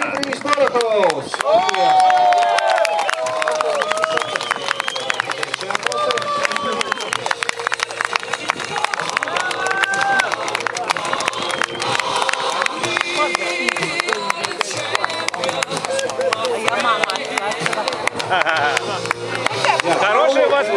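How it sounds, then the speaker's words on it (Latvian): A crowd claps and cheers for formula race winners at a prize ceremony at the Biķernieki track. The applause rolls on steadily throughout, with a voice talking over it on a loudspeaker. "Vēlreiz aplausi visiem formulistiem."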